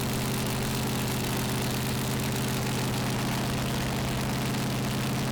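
Chevy 526 engine in a pulling tractor at a Danish tractor pulling championship, idling with a loud, steady low throb and dense mechanical roar that continues without a break and without any voices.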